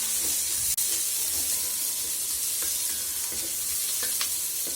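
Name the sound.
onions frying in hot coconut oil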